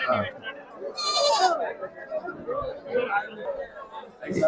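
A young goat kid gives a short, high bleat over a busy background of people talking nearby at a goat market in Chitradurga, India.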